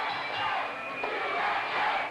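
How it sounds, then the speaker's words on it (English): A wrestling arena crowd keeps up a loud, continuous chant of USA with no break. "The fans already picking up the cheer, USA."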